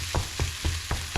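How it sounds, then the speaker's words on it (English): Minced garlic and flaked onions frying in a pan for curried beans with corned beef hash, a continuous close sizzle punctuated by five evenly spaced stirring scrapes. "At this stage I'm going to put the minced garlic in. Just a couple of spoons. And some flaked onions."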